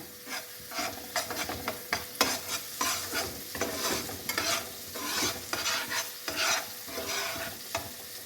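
Masala for Bengali rohu fish korma being stirred and fried in a pan, with scraping spatula strokes and a soft sizzle in an uneven rhythm, close and moderately quiet, no talking.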